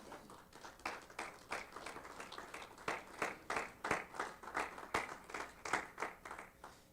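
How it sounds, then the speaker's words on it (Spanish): A church congregation claps in praise at a Sunday service, a rhythmic, fairly quiet run of hand claps with regular beats that continues throughout at a moderate distance. "Quiero dar un aplauso fuerte al Señor."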